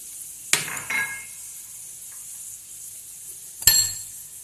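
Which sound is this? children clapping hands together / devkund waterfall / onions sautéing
onions sautéing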